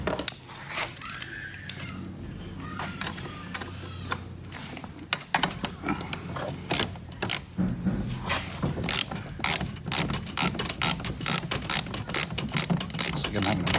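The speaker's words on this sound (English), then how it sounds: "Oh, need my ratchet." A hand ratchet clicks in fast, repeated bursts while bolts are tightened with a 17 socket during assembly of a 1300 W electric ATV. The clicking is close and sharp, and it gets denser and louder after a quieter start.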